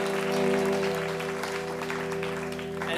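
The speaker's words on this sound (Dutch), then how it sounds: "Heel groot applaus voor mijn band, nog één keer, dames en heren." A concert crowd at Het Paard in Den Haag applauds a live band, a continuous wash of clapping and cheering layered over sustained tones from the stage, with no voice on top.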